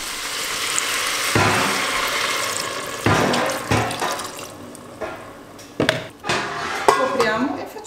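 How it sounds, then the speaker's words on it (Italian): Water poured into a pan of vegetables and potatoes during home cooking, a close, steady rushing splash with a few pan clanks and knocks toward the end. "Aggiungiamo l'acqua."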